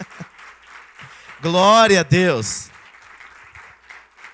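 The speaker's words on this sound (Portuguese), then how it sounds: "Agora aplauda o nome do Senhor Jesus com a Bíblia no banco." A church congregation claps together for a brief spell. The clapping comes after a raised shout of praise from a voice and continues under it.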